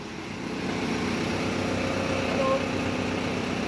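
A Tomosan 8095 tractor engine idles steadily, a continuous low mechanical drone with an even throb that holds at constant loudness throughout.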